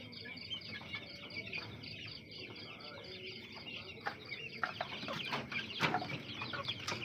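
Chickens cluck and chirp repeatedly in a farmyard, with a brood rooster among them and some background noise, no clear talking.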